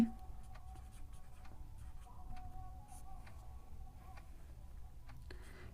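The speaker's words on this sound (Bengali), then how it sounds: "লিখছি আমরা অঙ্কনটা লিখে দিচ্ছি" Pen or chalk scratching out a geometry construction for a Class 10 lesson on circle tangents, soft steady strokes with faint clicks in a quiet room.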